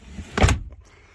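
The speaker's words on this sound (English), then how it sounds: "this is a drawer that comes down" A drawer in a VW T6.1 California Ocean camper van comes down with a single brief, firm thud and a short rattle, close and alone.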